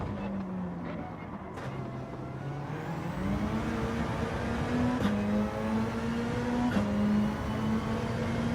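A race car engine in Gran Turismo 7 drones steadily and climbs in pitch through gear changes, loud and continuous throughout.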